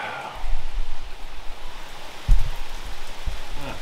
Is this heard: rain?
yes